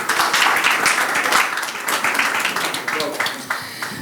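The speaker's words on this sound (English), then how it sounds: "Please give her a round of applause." An audience at a panel discussion launch event applauds with dense, continuous clapping that rises and falls in waves. Voices mix in with the applause.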